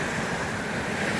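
Sea waves wash steadily against the North Wales shore where people are fishing, a close, continuous broadband roar with no clear breaks and a touch of wind across the microphone.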